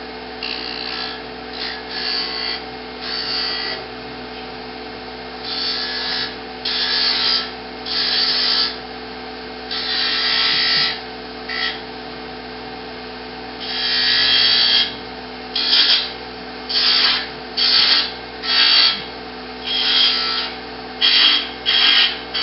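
A thin wooden finial spins on a lathe while a gouge cuts it in repeated short bursts, scraping and hissing over the steady hum of the machine, with pauses between cuts.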